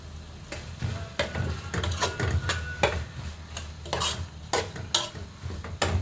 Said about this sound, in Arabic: هنفضل نقلب فيها كده لما تشرب الميه اللي فيها